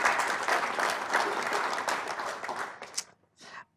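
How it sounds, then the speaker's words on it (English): Audience applause at a city town hall on housing, a dense burst of clapping that tapers off and stops near the end, followed by a brief spoken word. "So give them a huge round of applause."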